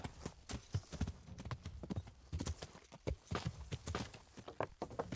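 A horse's hooves clip-clop in quick, steady rhythm in the medieval game Kingdom Come: Deliverance, close and continuous, with a faint whinny mixed in.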